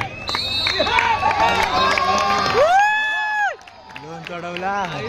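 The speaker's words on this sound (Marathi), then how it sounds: "प्रचंड टाळ्यांचा कडकडाट करू आणि शुभेच्छा देऊया वीस एकोणीस साठी" A crowd at a state-level kabaddi tournament in Raigad cheers and whoops loudly and close, with children shouting and a few shrill whistles over the noise. The cheering drops off sharply near the end.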